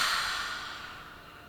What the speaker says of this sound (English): One last time through our nose and exhale